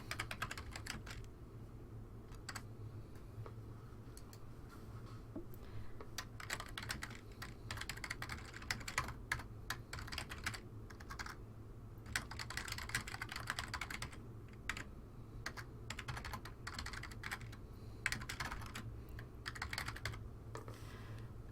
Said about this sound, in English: I can type my document,